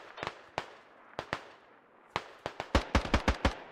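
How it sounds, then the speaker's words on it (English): A grenade blast in the military shooter Squad amid a firefight, with sharp explosive cracks and bursts of gunfire scattered unevenly, growing denser and heavier toward the end. "Bogler, I think, just threw a grenade"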